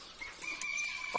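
A Shamo hen gives a short, faint burst of clucking calls over quiet background noise.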